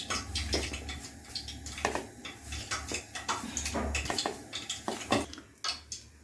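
Maida flour and masala mixed in a bowl for KFC-style fried chicken, giving soft irregular clinks and scrapes of a spoon against the bowl, close and steady over a low background hum, with no talking.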